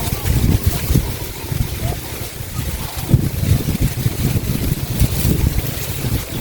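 Strong wind rushes through a field of dry, harvest-ready corn, a loud, continuous gusty roar buffeting the microphone throughout.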